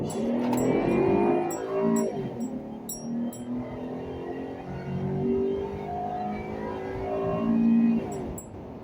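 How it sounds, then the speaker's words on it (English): A car engine roars steadily while driving in 33-degree weather, rising and falling as it revs, loud and close with no talking. "Just hearing the roar of the engine at 33-degree weather sounds awesome."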